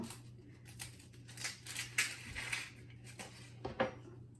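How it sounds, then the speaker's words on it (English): An onion is cut into small pieces with a knife in a quiet home kitchen, giving a few soft, scattered cutting taps and crunches over a low steady hum, with no voices. "So I'm going to cut my onion into"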